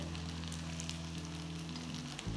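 Boiled pasta fries in oil while a ladle stirs it, producing an even, continuous sizzle with faint crackles and a brief scrape near the end.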